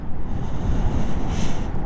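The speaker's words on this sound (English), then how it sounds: "I can hear all the wind now." Wind roars past the microphone while riding a Zero SR/F electric motorcycle, a heavy, constant low buffeting rush with no engine note beneath it, loud and close throughout.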